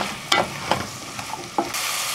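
A chopped zucchini mixture cooking in a pan for a zucchini-leek bisque, a close sizzle punctuated by three or four quick scrapes of stirring, the frying hiss swelling louder at the end.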